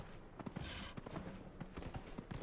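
A horse galloping in a race in Dragon Age: Inquisition, quick steady clip-clop hoofbeats thudding close by, with a brief whooshing rush part way through.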